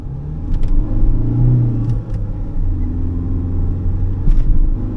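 Steady road and tire noise rumbles inside a moving 2009 Hyundai i30 FD, a continuous droning hum with a faint engine undertone and occasional small clicks.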